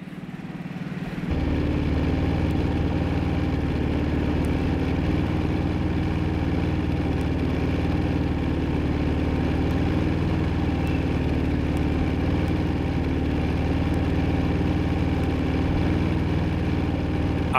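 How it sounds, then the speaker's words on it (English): A Generac inverter generator runs in eco mode, starting with a quiet moment and then settling into a steady, even engine hum that stays constant and close. "With the eco on, it's pretty much a whisper, this generator."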